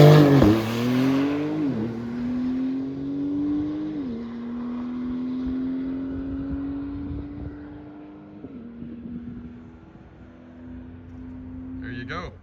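A Tesla Plaid and a Dodge Demon 170 launch down a drag strip. A loud engine roar climbs steadily, breaks at a few gear shifts and then fades gradually into the distance.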